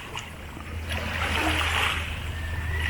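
Sea water at high tide at a beach resort in Cala Laiya, Batangas, splashing and washing steadily in a continuous broadband wash that swells slightly midway, with a low hum underneath and no talking.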